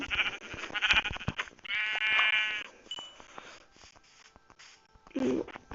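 A sheep bleats in a loud, quavering call in Minecraft, followed by quieter game clicks, footsteps and a brief low snort.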